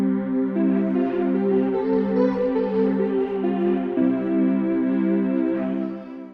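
Distorted piano preset in the Tomofon iPad instrument using a custom model, a steady gritty sustained chord with a buzzing harmonic texture, played alone and fading at the end.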